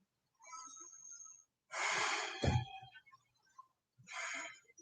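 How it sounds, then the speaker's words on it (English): Slow, audible breaths drawn in and let out during a held yoga pose, close and fairly loud, with a few separate breath cycles and short quiet pauses between them, no talking. "Take a couple of breaths here."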